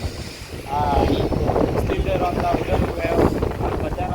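Steady wind roars and buffets across the microphone at KRS dam, a broad continuous gusting rush with faint voices underneath.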